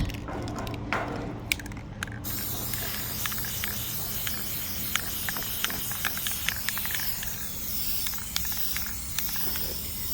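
A steady, loud hiss of a can of black gloss spray paint spraying a mailbox continuously, with a brief rattle at the start and no talking.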